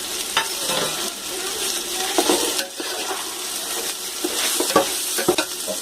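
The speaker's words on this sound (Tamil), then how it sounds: "நல்லா அப்படியே கிளறி நல்ல வாசனை வந்த பிறகு பச்சை மிளகாவும் புதினாவும் போட்டுருவோம்" Green chilli and mint are stirred into hot oil in a pan while cooking chicken biryani, giving a loud, continuous sizzle with scraping stirs of a spoon throughout.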